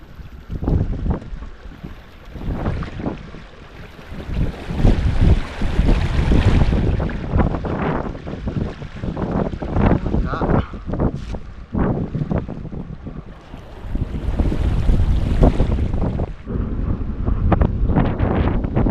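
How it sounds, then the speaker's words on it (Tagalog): Strong gusting wind batters the microphone in a seaside spot, producing loud, uneven rumbling bursts that rise and fall throughout with only brief lulls. "mas mahangin po sa lugar na to"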